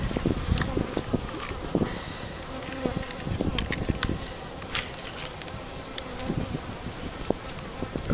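Honeybees in an opened spring hive give a dense, close buzzing hum with scattered louder passes and light tapping, steady throughout.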